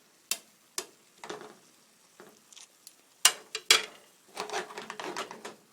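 Shrimp frying in a pan for a shrimp and beef stir fry, heard as quiet sizzling with sharp clatters of utensils against the pan, a few isolated knocks at first, then a busier stretch of stirring and frying toward the end.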